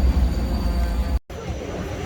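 Vienna's Tram D carries passengers on a city ride, heard as a steady loud rumble of the running tram broken by a brief dropout before the low rolling noise resumes.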